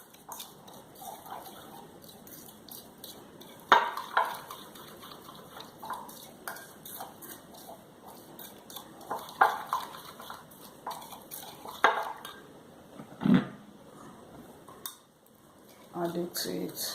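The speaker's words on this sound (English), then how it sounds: "Mix the oil and the milk" Oil and milk stirred together in a bowl for a homemade after-shower gel, with repeated clinks and scrapes of a utensil against the bowl, moderately close, plus a few sharper knocks.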